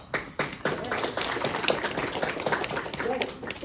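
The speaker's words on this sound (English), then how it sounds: "let's give a round of applause" A university classroom audience claps together in a brief round of applause, a dense patter of many hands that begins abruptly and holds steady for a few seconds.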